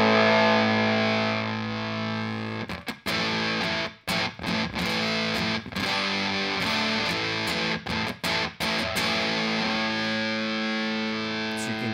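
Electric guitar through a Matthews Effects Whaler fuzz pedal with the body knob swept from full mids toward a cut, hollow tone, loud sustained distorted chords broken by brief choppy gaps and restrikes, with no voices.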